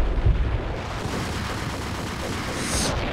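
Video game bomb explosions in Max Payne: a deep, booming blast at the start rolls into a noisy rumbling wash, with a brief higher hiss near the end.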